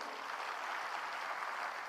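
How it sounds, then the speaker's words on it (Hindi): An audience applauds at a celebration event, a steady, dense wash of clapping that stays even and fairly distant throughout, with no voices standing out. "ताली बजा सकते उनके लिए"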